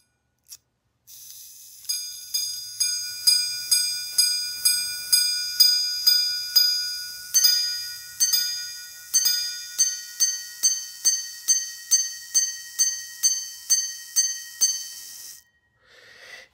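An antique repeater pocket watch with a flat case chimes its repeat close up, striking a steady series of bright, ringing metallic tones. A pause falls midway before a quicker run of strikes follows, ending in a small click.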